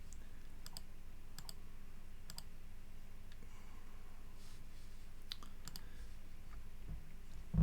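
Keys on a computer keyboard are struck while typing in Syriac, giving sparse, faint clicks scattered over a quiet background hiss.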